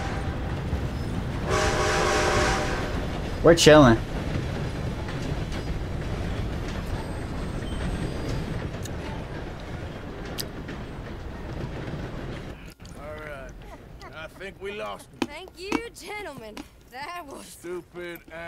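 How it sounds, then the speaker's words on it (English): A train in Red Dead Redemption 2 rumbles past with a loud horn blast and rolling clatter, then fades as people talk over the remaining noise. "Gotta beat that train"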